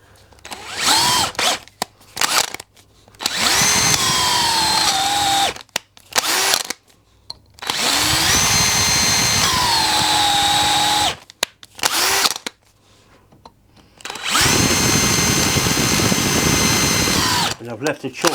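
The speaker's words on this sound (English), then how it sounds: "I'll drill it out to a final size and put a taper roll pin in" A power drill bores out a lathe compound slide handwheel to final size for a taper roll pin, its whine rising and falling over three long sustained runs separated by brief pauses, loud and close.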